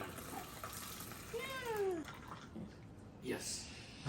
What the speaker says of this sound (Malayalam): കപ്പിലേക്ക് നമ്മൾ ഒഴിക്കുകയാണ്.